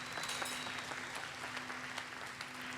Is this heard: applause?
yes